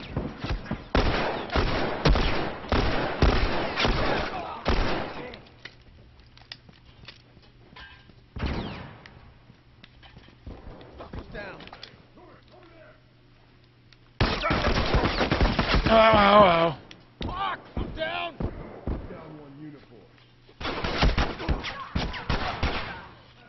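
Bursts of gunfire in The Last of Us multiplayer, fast rattling volleys at moderate loudness separated by quieter gaps, with intermittent talk.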